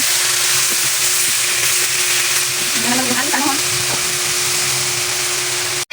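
Salmon frying in butter with browned garlic in a pan, a steady loud broadband sizzle throughout with faint stirring scrapes, no talking.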